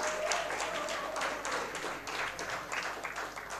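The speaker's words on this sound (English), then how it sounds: "all the five participants should get a round of applause" An audience at an ophthalmology quiz event gives quiz participants a round of applause, a soft, steady wash of clapping that sounds somewhat distant throughout.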